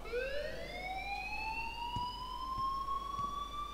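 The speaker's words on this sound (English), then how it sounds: "please turn off that alarm since that's your job" A steady rising electronic alarm wail in the video game Life is Strange, continuous and fairly loud, with faint thumps beneath and no talk.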